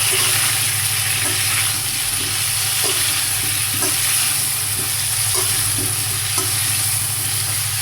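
Cabbage frying lightly in hot oil with salt, a loud continuous close sizzle with faint rhythmic stirring taps and a steady low hum underneath, no voices.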